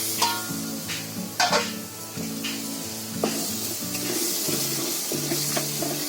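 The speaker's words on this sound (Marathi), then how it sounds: "आपली ग्रेव्ही मस्त शिजली आहे. एकदम मस्त ढवळून घेतली बघा." A spoon stirs masala gravy in a pan on a medium gas flame, with several distinct scraping strokes over a soft, continuous simmer and sizzle, close and moderately quiet, with no talking.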